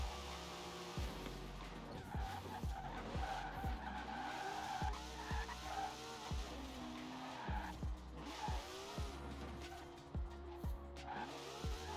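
Tires skid and squeal over and over as a car drifts on a snowy track in a racing video game, with repeated sharp slides over a steady engine drone. No one speaks.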